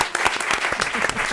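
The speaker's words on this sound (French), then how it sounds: "ça s'applaudit, j'applaudis." Studio audience applause on a French television show, a brief burst of dense, steady clapping heard up close.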